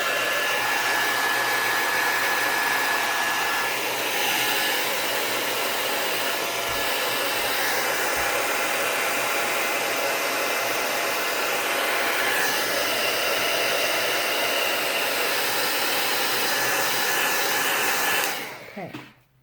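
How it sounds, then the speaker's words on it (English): A heat gun blows hot air over embossing powder on a handmade card, a loud, steady whooshing drone that runs unbroken for nearly twenty seconds before abruptly cutting off at the end. "take your heat gun, and you're going to get your heat gun going"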